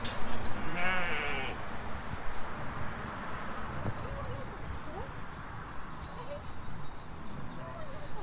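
Several sheep bleat loudly, with one close cry up front and more calls scattered behind amid outdoor rustling and a steady background hum.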